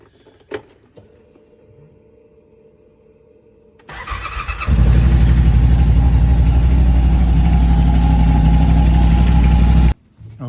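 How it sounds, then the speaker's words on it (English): A Yamaha RMAX 4LE side-by-side's engine cranks and fires after a few faint clinks, then settles into a loud, steady, close idle while warming up, cutting off abruptly near the end. "it says to start it, let it warm up to 140 degrees"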